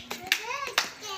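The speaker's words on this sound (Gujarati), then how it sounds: "તાળી પાડો." Small children in a nursery classroom clap their hands during a singing game, three quick, close claps spaced a few tenths of a second apart, with young voices singing softly between them.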